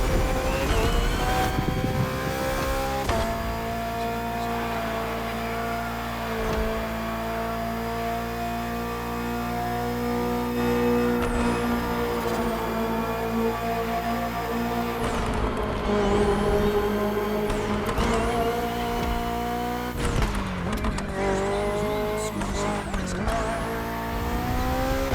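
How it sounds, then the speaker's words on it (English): BMW M Hybrid V8 endurance prototype race car, built in 2023 for races like Le Mans, in The Crew Motorfest: a loud, steady engine drone with rising and falling revs, gear shifts and tire squeals, no talking. "Finally, the BMW M Hybrid V8."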